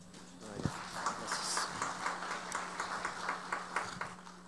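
Audience applause welcoming a magistrate at a national congress on indigenous affairs in Oaxaca, a steady wash of many hands clapping for several seconds with a low hum underneath and some faint voices.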